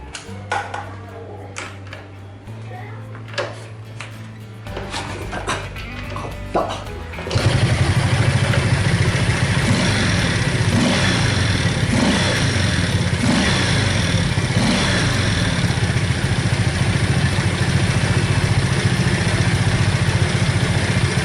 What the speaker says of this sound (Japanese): これでエンジンかかるんじゃない？